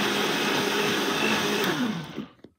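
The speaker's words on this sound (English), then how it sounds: "So I'm blending my condensed milk and" Kitchen blender whirring steadily as it purées condensed milk and sweet potato for Jamaican-style ice cream. It runs loud and close, then winds down and stops near the end.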